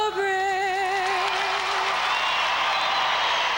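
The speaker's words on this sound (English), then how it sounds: "The crowd is revved up." A crowd cheers and claps at a 1997 Illinois high school girls basketball semifinal between Taylorville and Galesburg. A steady roaring wall of applause swells as a sung note fades out in the opening seconds.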